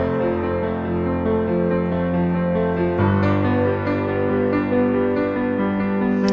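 A piano plays a descending sixteenth-note arpeggio from an arrangement, running top to bottom and jumping back up in a steady, clear pattern over sustained lower notes, with no talk.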